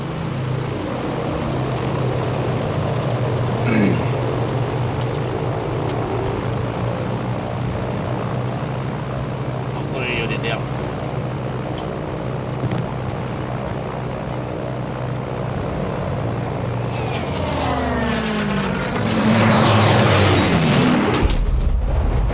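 Propeller aircraft rumble through a Battlefield V match, a steady engine drone building toward the end as a plane sweeps close overhead, with scattered distant booms and no talking.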